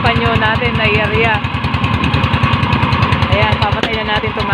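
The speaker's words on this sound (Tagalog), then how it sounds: "papatay na natin itong makina" A fishing boat engine runs steadily with a rapid, chugging pulse, loud and close, while a voice talks over it.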